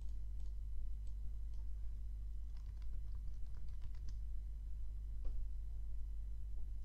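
Fingers type on a computer keyboard, an irregular patter of light clicks in short bursts over a constant low electrical hum, close and fairly quiet.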